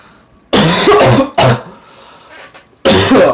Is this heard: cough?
yes